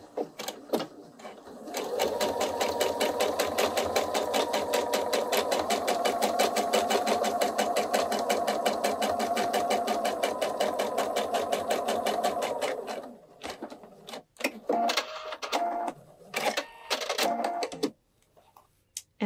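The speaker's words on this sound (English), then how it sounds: "I'm going to start stitching about 2 stitches in front of the line" A sewing machine stitches a paper piecing quilt project, running in a loud, fast continuous whir for about ten seconds, then stopping and restarting in short bursts with brief pauses near the end.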